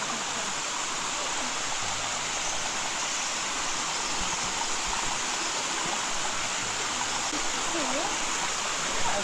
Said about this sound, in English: Secret waterfall.